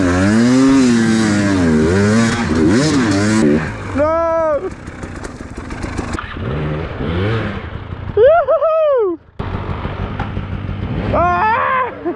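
KTM EXC 300 two-stroke dirt bike engine revving hard, its pitch rising and falling repeatedly as the throttle is held and the clutch slipped, loud and close, with a few brief dips between bursts.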